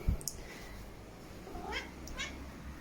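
A pet cat, one its owner jokingly likens to a dog, gives a couple of drawn-out meows at moderate, fairly close range, with a brief knock at the start and no talking.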